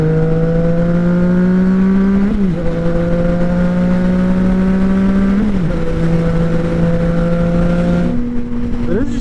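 Yamaha MT-09 motorcycle engines hold a loud, steady revving drone, the pitch dipping briefly at intervals as revs shift, continuous throughout with no talking.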